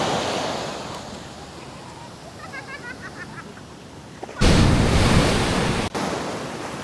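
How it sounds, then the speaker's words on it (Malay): Heavy ocean waves at Teluk Senangin beach rumbling continuously, swelling to a loud crashing surge near the end, with wind noise and distant bird calls. "Ombak kuat kali ni."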